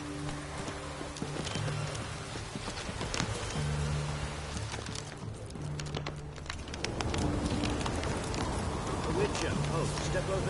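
Roach, a horse in The Witcher 3, clops along with steady hoofbeats, moderately close, under a faint rain-like hiss and a low musical drone, with brief talk over it.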